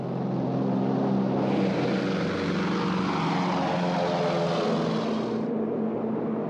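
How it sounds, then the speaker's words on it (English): Propeller airplanes of the Berlin Airlift drone steadily overhead, a loud, continuous engine roar that swells and holds for several seconds without any voices. "The sound of planes overhead brings back terrible memories"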